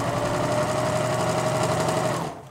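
A serger overlock machine runs steadily while sewing a rolled hem along fabric edge with very short, close stitches, giving a continuous near whirring buzz that stops abruptly at the end.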